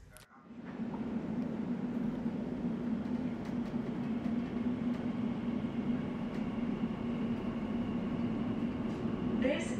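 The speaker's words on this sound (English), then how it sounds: "This is the train to Abbey Wood via Canary Wharf." An Elizabeth Line train pulls into Tottenham Court Road underground station on opening day. A steady, loud rolling rumble with a low drone holds throughout after a quick fade-in, and a higher squeal rises at the end.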